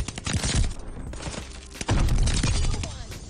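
Incendiary-round gunfire from a Call of Duty Vanguard match, loud and dense bursts of rapid shots filling the whole moment with a brief lull near the middle before firing resumes heavily.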